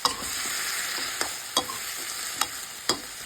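Cauliflower stir-fried in a pan, cooked briefly to stay crisp, with a steady hiss of frying and several sharp scraping clicks from the spatula stirring at irregular intervals, close and alone with no talk.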